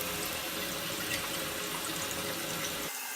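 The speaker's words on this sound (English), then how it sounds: "Okay, it's filling nicely." A toilet tank refills through a newly installed fill valve, a steady close hiss of running water that goes on without a break and stops just before the end.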